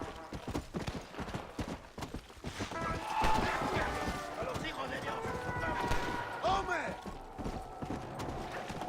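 Horse galloping in the zombie-themed Red Dead Redemption: Undead Nightmare game, a fast run of hoof clip-clops close and steady throughout, with someone talking and exclaiming over it.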